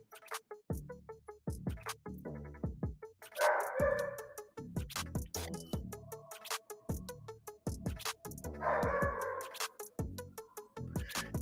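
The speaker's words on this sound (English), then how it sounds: "You hear my dog Bruce?" A dog barks repeatedly in sharp, close bursts, mixed with yips and short whines, the barking clustering in two louder flurries and continuing steadily with no talk over it.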